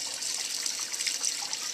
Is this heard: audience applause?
no